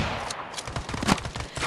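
Rapid burst of gunfire from an AWM sniper rifle in the Standoff 2 mobile shooter game, loud and close, with several overlapping sharp shots packed into under two seconds and no talk.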